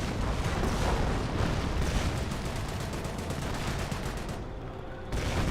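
Light field rocket barrage in Company of Heroes, a dense, continuous roar of overlapping blasts and rumbling impacts sustained for several seconds, loud and close, with a brief lull near the end before the din resumes.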